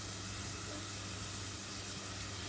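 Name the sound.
onions and garlic softening in a pan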